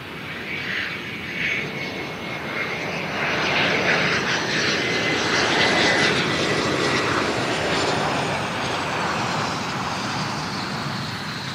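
An airliner takes off on runway 03, its engines roaring loud and broad, swelling and then holding steady at a distance over faint road traffic.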